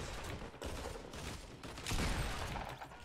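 Gunfire in the Fortnite video game as opponents shoot at windows: a dense, continuous stretch of rapid shots and clattering impacts, loud and busy throughout with a heavier burst near the end.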